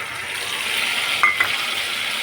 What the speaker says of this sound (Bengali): মশলাটা একটু ভাজা ভাজা করবো